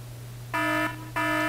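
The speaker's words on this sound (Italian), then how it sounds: "Allarme intruso, allarme intruso." Intruder alarm in the Mega Man Star Force video game: two loud electronic buzzer blasts with stacked harmonic tones, each lasting about a third of a second, over a steady low hum.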